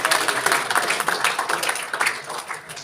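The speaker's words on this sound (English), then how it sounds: "Can we all give them a round of applause for" An event audience at a business gathering breaks into loud, dense applause, many hands clapping in a continuous rippling wash that stays strong throughout the short stretch.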